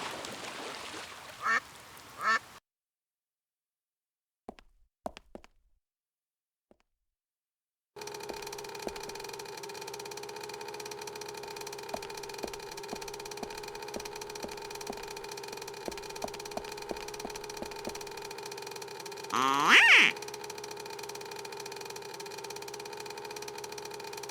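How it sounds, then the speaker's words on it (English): Ducks quacking at a noisemaker in the adventure game Secret Files 2: Puritas Cordis, a run of short repeated quacks over a steady humming tone, preceded by a near-silent gap and ending with a louder sharp call. "This noisemaker seems to appeal to the ducks."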